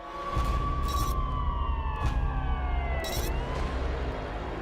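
A war warning siren wails loudly and steadily, its tones sliding downward in long sweeps with a few sharp bursts, and no voices over it.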